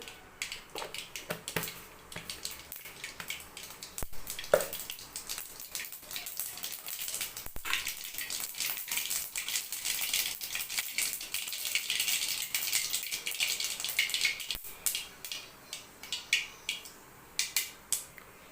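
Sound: mustard seeds added to hot oil in a pan

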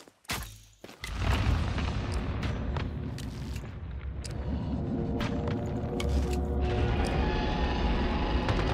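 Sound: laser attack in video game Once Human

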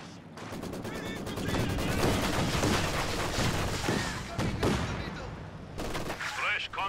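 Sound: machine gun fire from video game Company of Heroes 2

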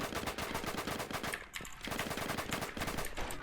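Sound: gunfire in the video game Roblox Jailbird

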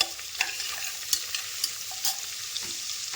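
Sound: sliced onions frying in a pan until brown

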